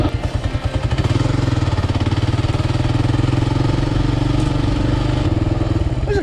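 A Kawasaki KLR 650 thumps along an off-road trail in outback Australia, its engine a steady, loud, close mid-pitched drone with a rhythmic pulse throughout.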